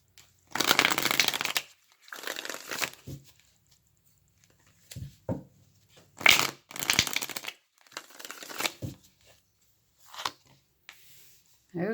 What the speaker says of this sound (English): So let me just shuffle a few times.